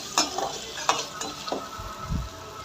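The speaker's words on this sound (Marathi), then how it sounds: "मी इथे मीठ टाकलं आहे आणि एकदा मिक्स करून घेते आहे." A spoon stirs chopped onion, tomato, chili, ginger, garlic and salt in a hot pan for Schezwan noodles, with a few scraping knocks against the metal over a soft sizzle, close and brief.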